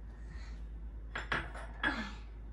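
Batter with vanilla being whisked by hand in a bowl, a few short bursts of scraping and clinking against the bowl, close and alone after a quiet start.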